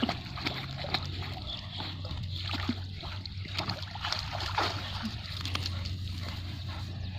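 Two dogs splashing and playing in water outdoors, a steady wash of sloshing and scattered splashes at moderate distance, continuous throughout with no clear talk.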